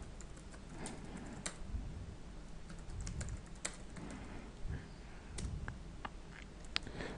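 Rapid, steady keyboard typing as a command is entered into esxcli on a computer, close-up clicks and key taps continuing for several seconds with no talking.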